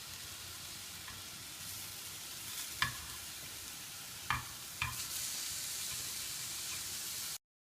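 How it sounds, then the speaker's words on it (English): Ground beef fries in a pan with a continuous close, broadband sizzle and hiss, broken by a few sharp scraping knocks from stirring, before the sound cuts off abruptly. "Then we beat the ground beef until it's done."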